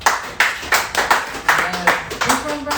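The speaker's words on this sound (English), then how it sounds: "clap up for the security tonight" Audience at a comedy show clapping for the security staff, a close, rhythmic burst of hand claps in a steady pulse, with a voice talking briefly over it.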